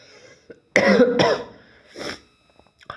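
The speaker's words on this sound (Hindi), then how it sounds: "थोड़ा जुकाम है तो इसीलिए बीच बीच में खांसी आ जाती है" A person with a cold coughs close by: one harsh burst followed quickly by a second, then a softer throat-clearing cough, with quiet gaps between.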